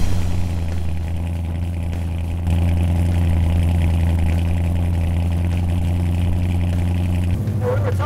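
Custom-built RATical rat rod truck engine idling steadily with a deep low rumble, then revving slightly louder partway through, close and continuous.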